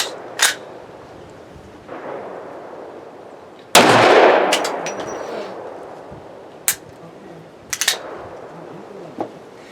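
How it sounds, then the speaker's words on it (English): Desert Eagle .44 Magnum pistol fired at a range: several loud, sharp shots spaced irregularly, one with a longer booming tail, plus fainter clicks and handling noise between them. "we're going to shoot a bunch today and see how it shoots"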